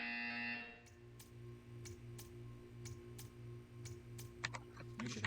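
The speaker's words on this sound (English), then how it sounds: "You will hear a buzzer." A buzzer sounds in the Portal 2 video game: a loud tone cuts off early, followed by a steady low hum with regular sharp ticks, then a cluster of quick clicks at the end.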